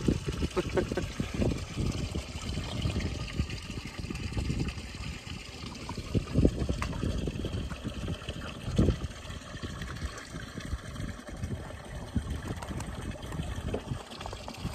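Water trickles and splashes steadily as a farm animal trough fills, with voices talking and occasional thumps over the running flow.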